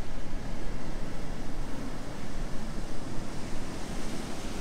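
Ocean waves wash into a rock pool at Garnet Beach, a loud, continuous roar of churning surf with rhythmic surges and heavy wind buffeting the microphone, no talking.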